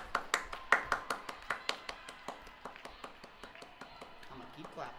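Scattered hands clap in a quick, even rhythm after a school house competition game victory, sharp claps that start strong and slowly fade, with a faint voice near the end.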